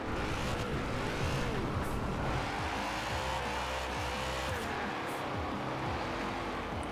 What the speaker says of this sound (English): it definitely likes to spin those rear wheels